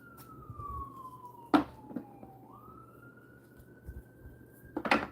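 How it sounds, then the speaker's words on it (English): An emergency vehicle siren wails outside, a faint steady tone that slowly falls and then rises, with a few louder thumps and clatters nearby. "Y'all hear the sirens?"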